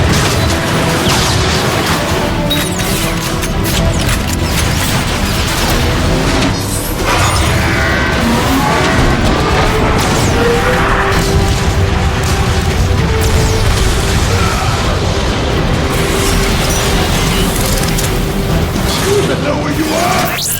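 Artillery strike pounding a dropship in the video game Transformers: Fall of Cybertron: loud, dense booms and crashing blasts rolling on continuously, mixed with mechanical game noise and a voice.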